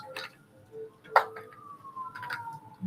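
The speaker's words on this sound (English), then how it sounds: "I hear sirens." A police siren wails faintly in the distance outside, one long falling tone heard through a quiet room, with a few soft nearby clicks and knocks.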